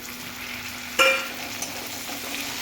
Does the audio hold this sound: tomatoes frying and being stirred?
yes